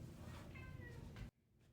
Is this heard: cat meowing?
yes